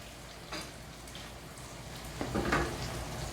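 A sauce with olives gently warming and sizzling in a pan, a quiet, steady crackle with a couple of louder stirring or spattering bursts near the middle and end.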